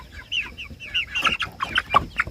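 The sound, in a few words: chickens clucking while being moved and fed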